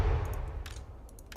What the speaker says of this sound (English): So I can get the perfect bombing run.